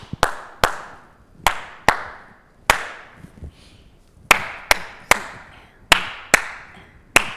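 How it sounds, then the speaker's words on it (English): Sharp hand claps ring out in a spaced rhythmic pattern, about a dozen crisp claps with short pauses between groups, close and clear with no talk. "the last part of this rhythm is 2 more claps"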